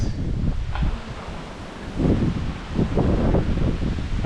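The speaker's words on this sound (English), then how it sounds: "Oh, it's pretty windy here still." Strong wind gusts buffet the microphone outdoors on the coast of Fuerteventura in the Canary Islands, a steady broadband roar swelling in several gusts, loud and close, with rustling beneath.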